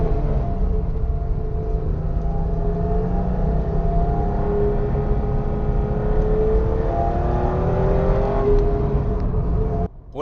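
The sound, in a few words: BMW Alpina E21 C1 1980s car driving, noisy engine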